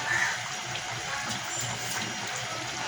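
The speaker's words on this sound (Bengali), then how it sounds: "দেখুন আমার মাংসটা ফুটে গেছে।" Mutton curry boiling in a pot, giving a soft continuous bubbling and hissing, close and steady for a few seconds with no voices.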